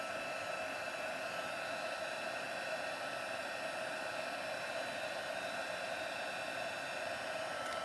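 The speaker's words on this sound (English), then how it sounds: "grab the heat gun again. It shouldn't take quite so long because it's already warm" A heat gun blows steadily while melting embossing powder on die-cut frames, a continuous airy whoosh with a fan hum, moderately loud and unbroken throughout with no talking.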